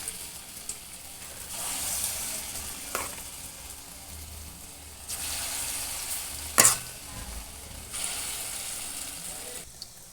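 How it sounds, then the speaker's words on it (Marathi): Lentil bhaji fry in hot oil, a soft continuous sizzle that swells in waves, marked by a few sharp clinks and splashes. "आता आपण यामध्ये भजी तळायला घातलेली आहे"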